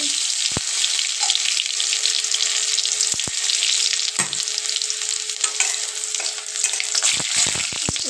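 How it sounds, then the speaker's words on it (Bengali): Cumin seeds and chopped garlic crackle and sizzle in hot oil in a home kitchen, a loud continuous fry with occasional sharp clicks of stirring. "তেল আমার গরম হয়ে গেছে, দিয়ে দিলাম সাদা জিরে। দিয়ে দিলাম রসুন কুচি"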